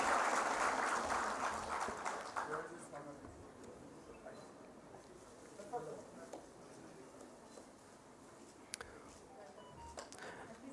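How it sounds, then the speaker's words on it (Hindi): An audience claps to welcome foreign embassy delegates at a fisheries workshop, with loud applause at the start fading into softer scattered clapping and room noise, while a voice speaks over it. "कृपया जोरदार तालियों के साथ में हमारे इन फॉरेन डेलीगेट्स का"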